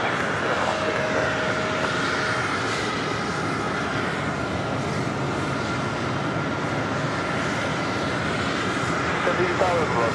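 A JetBlue Airbus A320 jet at JFK produces a steady, loud, broadband engine roar that holds constant throughout, with no break in the sound.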